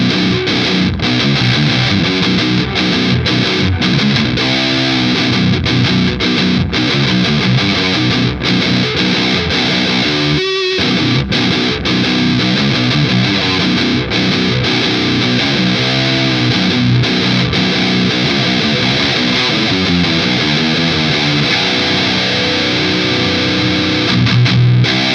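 Heavily distorted electric guitar, newly unboxed, plays chugging riffs and sustained chords, loud and continuous throughout with no voices.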